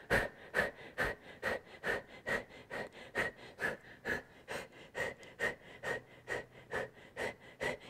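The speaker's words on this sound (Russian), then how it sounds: "сейчас будем дышать намного быстрее, нам нужно сделать 30 дыхательных циклов таких" Fast, evenly paced breathing during a deep abdominal workout, about seventeen close-miked breaths in eight seconds, steady and unbroken, with no talk.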